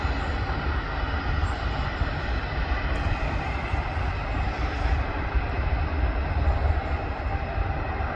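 Steady, loud jet engine roar of a large airliner at Manchester Airport, heard from a viewing park as a continuous broadband rumble without breaks.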